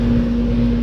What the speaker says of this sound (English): here we have a little Goodman heat pump running in heat mode